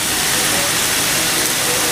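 Fat chunks sizzle on a Blackstone griddle in a dense, steady, close hiss that holds evenly throughout with no voices.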